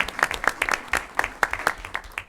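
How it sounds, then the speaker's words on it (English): A small group claps at a school board meeting, with distinct, uneven hand claps close by, sparse enough that individual strikes stand out in a loose, short round. "So I'd like to give them a round of applause"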